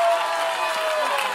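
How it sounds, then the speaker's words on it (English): A church congregation claps and shouts in praise during a prophetic teaching service, a dense, steady wash of crowd noise and voices that stays loud and unbroken throughout. "If you would stand up and clap your hands and begin to shout"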